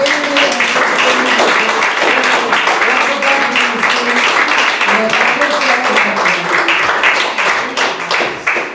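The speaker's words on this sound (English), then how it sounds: "A round of applause for Andy." Applause from a magic show audience for Andy, a volunteer onstage, sustained and loud throughout, with voices and talk mixed into the clapping.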